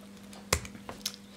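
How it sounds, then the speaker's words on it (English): A few isolated keystrokes tapped on a computer keyboard while entering commands, soft and close against a faint steady hum. "Instead of copying and pasting them, I will be typing them just for the sake of this video"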